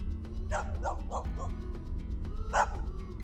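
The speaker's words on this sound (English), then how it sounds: "Are you barking at me?" A dog barking outdoors near a cliff edge on an off-grid homestead, a quick run of four sharp barks followed by a pause and one louder bark, with a faint voice in between.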